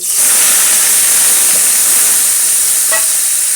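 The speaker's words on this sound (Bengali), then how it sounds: "কড়া গরম হয়ে গেছে এবার একটু তেল দিয়ে নেবো আলুগুলো দিয়ে দিয়ে দিচ্ছি" Potatoes tipped into hot oil in a very hot wok set off a loud, close, continuous sizzle and hiss that holds steady, with faint clinks of stirring and no talk.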